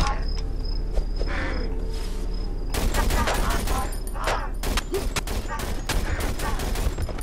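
Gunfire in the horror game Cry of Fear: a steady ambient bed broken by a string of sharp shots clustered in the second half, close and fairly loud.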